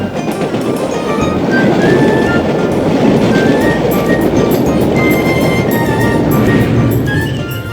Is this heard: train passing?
yes